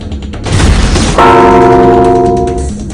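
A loud, close bell strike rings out and sustains with a long, humming resonance that slowly fades, preceded by a brief noisy rumble.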